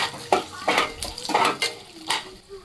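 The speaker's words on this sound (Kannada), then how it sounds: "ಕಡಲೆಕಾಯಿ ಬೀಜ ಹಾಕಿದೆ, ಕಡಲೆಬೇಳೆ, ಉದ್ದಿನ ಬೇಳೆ ಸ್ವಲ್ಪ ಫ್ರೈ ಮಾಡಿ ಅದನ್ನು" Peanuts, chana dal and urad dal frying in a pan, with a series of distinct metallic scrapes and clinks of a spoon stirring against the pan over a faint sizzle, close and fairly loud.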